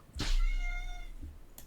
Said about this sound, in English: the cat here just knocked something over or did something